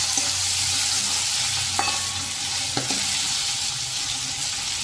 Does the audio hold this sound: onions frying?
yes